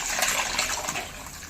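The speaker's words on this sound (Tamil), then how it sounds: "இப்போ நம்ம கரைச்சி வச்சுருக்க குழம்பு சேர்த்துடலாம்." Dissolved fish curry mixture is poured into a pan of fried onions and green chillies, giving a short, steady liquid splashing and sizzle at close range, with no talking.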